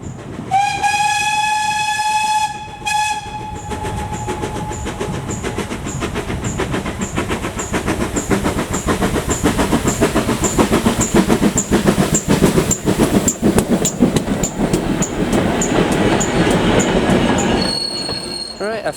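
Locomotive 5552 rolls past hauling China Clay wagons, sounding a loud horn blast near the start, followed by a steady rhythmic clatter of wheels over rail joints and faint squeals, with another short horn note at the end.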